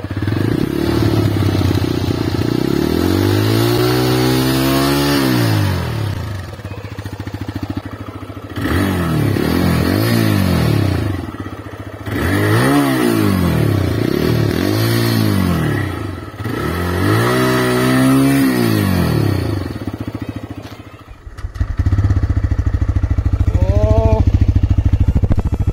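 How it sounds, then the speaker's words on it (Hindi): A TVS Rider 125 motorcycle's loud, sporty exhaust revs up in four or five separate rising blips over a steady idle, recorded close with no talking. "इसके एग्जॉस्ट की बात करूं तो बहुत स्पोर्टी सा साउंड आता है इसका, एग्जॉस्ट बहुत जोरदार है इसका"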